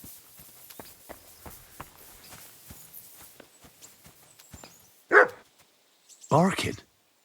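Two loud, close barks from a dog in Kingdom Come Deliverance II break in near the end, after a stretch of soft footsteps or hoof-like clopping with faint talk underneath.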